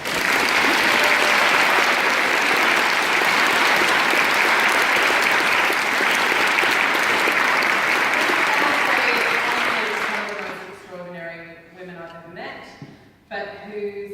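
An audience at a book launch gives a long, loud round of applause to welcome the author, sustained dense clapping for ten seconds before it fades and a voice begins speaking.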